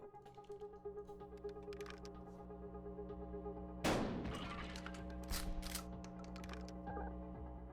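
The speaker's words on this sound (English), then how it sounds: "And I'll shoot him in the face." A single loud shotgun blast from the game Buckshot Roulette rings out partway through, surrounded by quieter clicks and mechanical handling sounds over a steady low hum.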